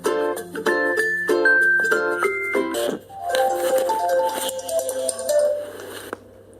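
A phone ringtone sounds when a ride arrives: a bright electronic melody of stepped tones, repeated as a short phrase, then a second softer tinkling run of notes, loud and close with no talk.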